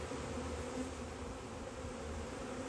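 A swarm of honey bees droning continuously in the early morning, a dense, steady buzz from many insects nearby, with no talking.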